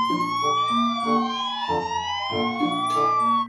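Toy ambulance siren wailing continuously with rising and falling electronic tones, close and steady, with no talking.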